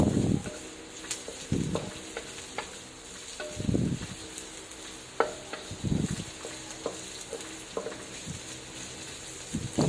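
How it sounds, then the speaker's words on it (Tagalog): Garlic and onion being stirred as they sauté in a pan for mung bean stew: repeated scraping, stirring strokes over a steady low sizzle, close by, with no talk. "halu-haluin natin"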